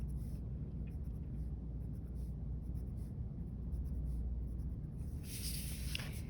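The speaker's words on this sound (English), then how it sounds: "So I'm gonna take my ruler just like I did vertically, horizontally, I'm going to make my marks" Pencil scratching across paper as lines are marked against a ruler, a steady soft writing texture running throughout over low background rumble, close and fairly faint.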